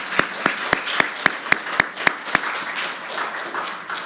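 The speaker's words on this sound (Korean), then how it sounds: "박수 한번 했으면 좋겠습니다." Church congregation applauding the praise team at a Sunday worship service: a run of distinct, evenly spaced claps stands out over a soft bed of scattered clapping that thins and fades toward the end.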